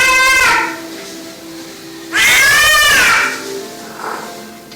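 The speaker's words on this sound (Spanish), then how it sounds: "Esto es un episodio convulsivo en un gato." A cat having a seizure, recorded on video, gives loud, strained, drawn-out yowls, two long cries separated by a short gap and followed by a fainter trailing sound, with no talking over them.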